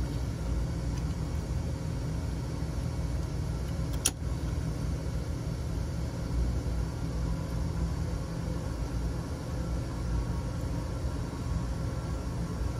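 Steady droning of a Saab 340B turboprop engine running up during a propeller overspeed test, a continuous even roar heard close with one sharp click partway through, no talking.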